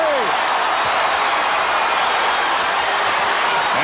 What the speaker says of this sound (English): applauding the efforts of the Bulls.